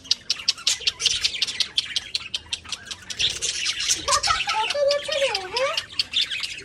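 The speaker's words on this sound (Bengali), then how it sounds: "এই দেখো কত পাখি।" Many birds chirp and squawk in the garden of an old house, a busy overlapping chorus of sharp calls and warbling notes at moderate distance, fairly faint overall.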